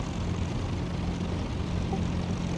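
A Spitfire Mark 14's engine drones steadily inside a VR flight combat game, a continuous, even roar with a low hum running underneath and no voices.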